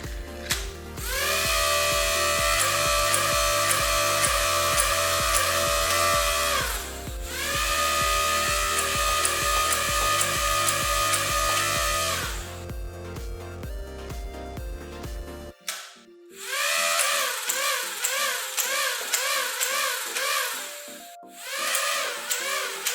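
BOHAN 357 Nerf revolver blaster's motor revving loud and fast, a high mechanical whine in sustained bursts with brief dips and a sharp cutoff near the middle, then rising again, no speech.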